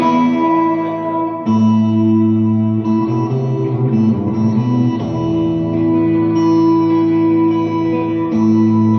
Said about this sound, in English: I'm playing a chord over the bass line